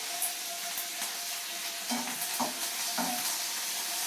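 Four dried red chillies sizzle and fry in hot oil in a pan for Thoothukudi-style adai dosa, a steady close crackle with a few sharper spits and stirring scrapes, no voices.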